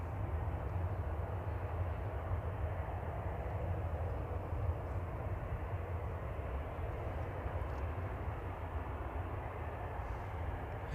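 An airliner taxiing out for departure at Manchester Airport, bound for Paris Charles de Gaulle, gives a steady low jet-engine rumble that holds constant and moderately distant throughout, with no talk.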